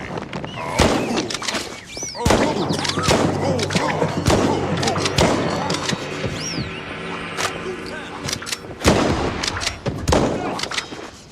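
Repeated sharp gunshots ring out in the Mouse: P.I. for Hire shooter game, loud bursts scattered over a bed of background music and effects, with some heavier thumps between shots.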